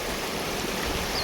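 The Nyamwamba River in Kasese, flowing down from the Rwenzori mountains, gives a loud, steady rushing roar of moving water close by, unbroken and alone, with no voices.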